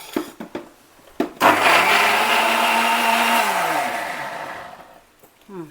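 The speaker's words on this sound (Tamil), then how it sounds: "இப்போ நம்ம மிக்ஸி கிரைண்ட் பண்ணலாம்." A kitchen mixer grinder blending white pumpkin (ash gourd) with water roars to life after a few knocks and runs loud and steady for about four seconds, then winds down and stops.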